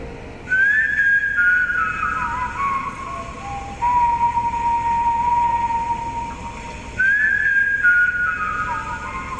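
A drawn-out, eerie whistled melody from a song plays alone without the beat, with sliding sustained tones that repeat in phrases over a low background hiss.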